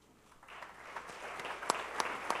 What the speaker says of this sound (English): You can clap, you can stand and clap if you want to.